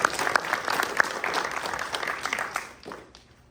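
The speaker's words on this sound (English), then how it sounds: "a round of applause for both clubs for doing all this" Audience at a solar eclipse talk applauds the hosting clubs, a dense, steady burst of clapping that holds strong before fading out near the end.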